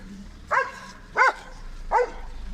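Three sharp barks from a dog roaming around a house, evenly spaced about three-quarters of a second apart, close and clear above a quiet background.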